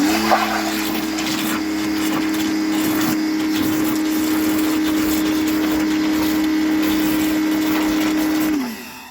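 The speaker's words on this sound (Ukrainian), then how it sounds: "Тобто засунути апарат високого тиску в відро і збовтати." A pressure washer wand plunged into a bucket of car shampoo drones loud and close in one steady motor whine, churning the liquid into foam before shutting off right at the end.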